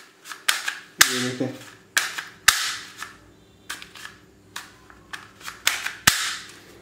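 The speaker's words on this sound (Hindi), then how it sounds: "चलिए इसमें एक बार ये सॉफ्ट बुलेट भी डाल के फायर करके देखते हैं।" A PUBG toy revolver is fired about a dozen times, each shot a sharp, loud cap-gun crack at an uneven pace, with a brief spoken remark near the start.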